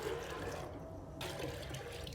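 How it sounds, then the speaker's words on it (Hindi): Water pours steadily into soaked dal in a pressure cooker, a quiet continuous splashing and filling with a short dip partway through, heard alone. "तकरीबन 2 लीटर के करीब मैंने पानी डाल दिया दाल में।"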